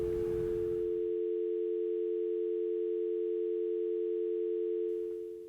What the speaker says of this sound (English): He heard a dial tone.